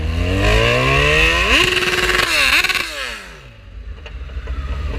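A Kawasaki Z1000 motorcycle revved while standing in 5°C cold, engine climbing in two sharp blips then falling back to a rumbling idle, loud and close with no talk.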